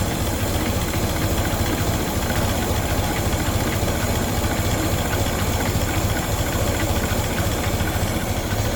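A 1924 Ford Model TT C-Cab flatbed truck engine idling, a steady, even mechanical chug with a low rumble, heard up close and alone with no voices.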